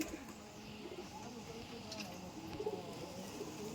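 Giribaz pigeons, a Bengali high-flying tumbler breed, coo softly in a low murmuring pattern through the clip, fairly faint against background noise with some voices nearby.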